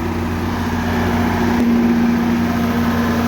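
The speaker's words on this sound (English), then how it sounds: "it's loud, but that's our TMR" A farm TMR feed mixer's engine runs loud and steady, a constant mechanical drone with a strong low hum, with no voices over it.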